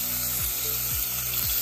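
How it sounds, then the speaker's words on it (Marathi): Finely chopped onion sautéing in oil with curry leaves and asafoetida for stuffed eggplant, a loud dense sizzle with three regular spatula scrapes across the pan, heard alone. "चांगला गुलाबी रंगावर येईपर्यंत परतून घ्यायचं."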